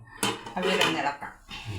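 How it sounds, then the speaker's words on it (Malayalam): A spoon knocks and scrapes against a metal cooking pot while mixed vegetable aviyal is stirred, giving a few close, brief clattering strokes. "അവിയലൊന്ന് ഇളക്കാം."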